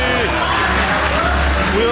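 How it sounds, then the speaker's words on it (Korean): An arena crowd gives dense, continuous applause and cheering for two fighters at the end of a bout, a steady wash of clapping under a commentator's voice. "정말 뜨거운 박수를 보내드리고 싶습니다"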